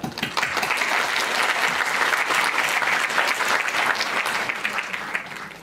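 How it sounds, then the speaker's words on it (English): A hall full of people at a 2020–2021 graduation ceremony applauds loudly and continuously, a dense steady clapping that fades slightly at the end. "Please give a round of applause to all these people who"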